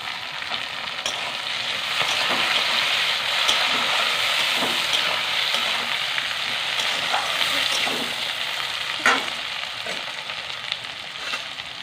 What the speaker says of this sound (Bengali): পেঁয়াজটা একটু হালকা ভেজে নিয়েছি এর মধ্যে দিয়ে দেবো একটু টমেটো কুচো